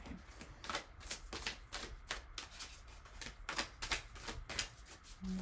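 Repeated papery riffling of oracle cards being shuffled by hand, a quick series of crisp flicks and taps at close range with no talking.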